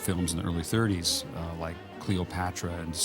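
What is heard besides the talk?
No everyday noises stand out.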